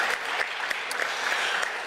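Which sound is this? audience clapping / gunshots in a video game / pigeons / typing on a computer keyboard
audience clapping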